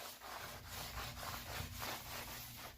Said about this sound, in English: Basically, we're just giving it a nice scrub.